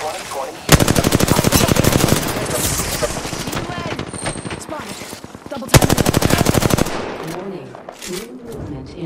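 Apex Legends gameplay with rapid automatic gunfire in two loud sustained bursts, close and dense, plus scattered single shots and in-game voice chatter in between.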